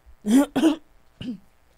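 A person clears their throat twice in quick succession, close and loud, followed by a short rasping grunt.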